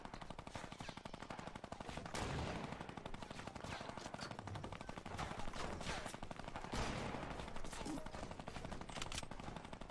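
Gunfire in the Fortnite battle royale: sustained rapid bursts of automatic fire, dense and continuous, loud and close with no pauses, alone without talk.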